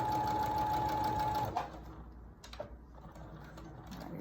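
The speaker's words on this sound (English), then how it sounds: "you're going to sew down to the edge so that you sew the elastic in with the material" A sewing machine stitches elastic into the edge of a fabric face mask, running steadily and loudly before stopping and giving way to quieter handling noises.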